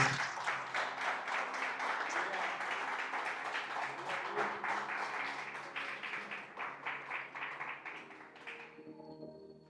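Church congregation applauding during a Christian sermon, a dense, steady burst of many hands clapping with a rhythmic pulse, fading out near the end as a faint tone lingers.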